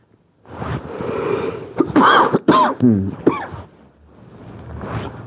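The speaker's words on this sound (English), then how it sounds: "I have some cough issue right now" A few harsh throaty coughs and throat clearing at close range, with a breathy pause before one more rasp near the end.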